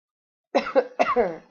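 A woman coughs during a makeup tutorial, two close, rough, voiced bursts after a moment of silence, each breaking into a couple of quick pulses.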